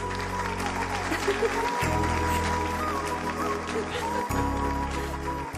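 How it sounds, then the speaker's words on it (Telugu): Students in a classroom clap for their teacher Jessica madam, a steady wash of applause running through the whole stretch beneath loud, bass-heavy background music. "స్టూడెంట్స్, మన జెసికా మేడం కి క్లాప్స్ కొట్టండి"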